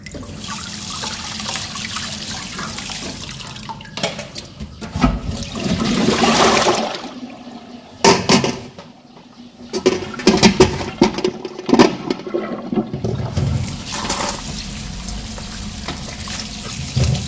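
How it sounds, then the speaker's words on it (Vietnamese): Sweet corn kernels washed in running water, a loud close gush and splash of tap water in a basin that swells, drops and resumes in bursts of sloshing and trickling, with no speech over it. "Các bạn rửa đi rửa lại cho mình khoảng 3 nước là cái phần ngô này sẽ sạch nhé"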